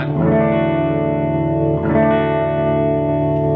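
Electric guitar played through a Fender Blues Deluxe Reissue amp with its reverb turned up to about 9, sustained chords ringing out with a swirly wash of reverb, two strums close and loud, no voices.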